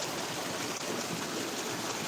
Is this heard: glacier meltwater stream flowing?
yes